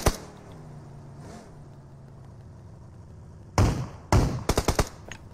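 Gunfire in a shooting video game: a quiet stretch, then a sharp loud burst, followed by a rapid cluster of several close, punchy shots in quick succession.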